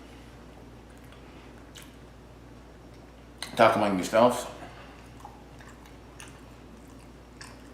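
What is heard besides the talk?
chewing a sandwich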